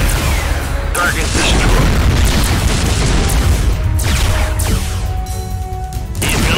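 Destroyed target exploding in the space strategy game Imperium Galactica 2, a loud booming blast with crashing bursts and rumble, dense and continuous, followed by sharp pops.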